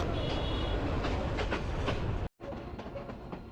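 A passenger train rolls along near Santahar Junction in Bogura, heard from inside a carriage: a steady rumble with rhythmic wheel clicks, briefly cut by a short gap before the running noise resumes.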